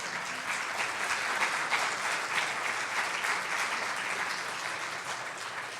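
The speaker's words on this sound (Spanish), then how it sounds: "¿Cuántos le dan una ofrenda de palmas a Dios por su palabra?" Church congregation applauding together, a steady dense wash of clapping that carries on loudly for the whole stretch, with no voices over it.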